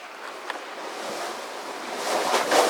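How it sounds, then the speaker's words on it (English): Ocean waves surge into a limestone blowhole on Black Point in the Exumas, a continuous whooshing roar of surf and spray that swells louder toward the end, with wind buffeting the microphone. "And when the waves crash in, it creates this pressure that it"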